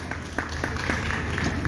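An audience at an Altos achievers awards stage event claps together in a fairly faint, steady wash of applause with a few sharper individual claps standing out.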